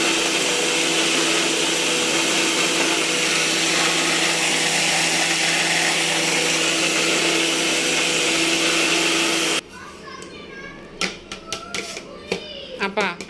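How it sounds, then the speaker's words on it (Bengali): An electric blender whirs steadily and loudly while grinding papaya peel, then cuts off near the end, leaving clattering handling noises and brief voices. "তার জন্য পেঁপের চুচা আপা কেটে দিয়েছে আর আমি ব্লেন্ডার করে নিলাম। আরও ভালো করে ব্লেন্ড করতে হবে।"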